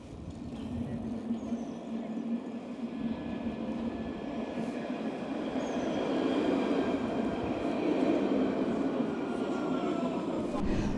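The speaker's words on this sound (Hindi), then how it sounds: "आप देखोगे सामने तो मेरी ट्रैम आ रही है" A tram pulling in at a city stop in Australia, a steady close rumble of wheels and motor that swells and grows louder toward the end, with no talk over it.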